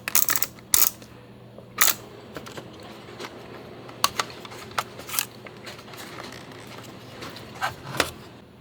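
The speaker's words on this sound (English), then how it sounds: "it's pretty much safe to open up the back of the camera" A Lomography Diana+ plastic film camera has its back opened: sharp plastic clicks and snaps at irregular intervals, a few louder latch pops among softer handling taps and rustles, close up with no talking.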